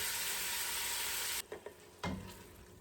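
Ground beef frying in a pot for chili, a loud steady sizzle at first, then quieter sizzling broken by a few scraping stirs as the meat is broken up.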